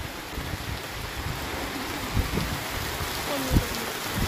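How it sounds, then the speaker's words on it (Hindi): Heavy rain pours down in Multan, Pakistan, as a dense, steady hiss with a few scattered louder splashes and thumps, heard on its own without talking. "बारिश अभी शुरू हो गई है और बहुत तेज़ी के साथ आ रही है"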